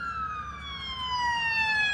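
A sheriff's vehicle siren sweeps past on the road, its falling wail loud and steady over a low traffic rumble, with no voices.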